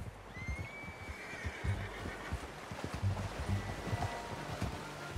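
A horse in the video game Red Dead Redemption 2 gives a long whinny near the start, over a steady outdoor wash and soft, scattered hoof clops.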